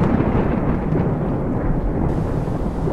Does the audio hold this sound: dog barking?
no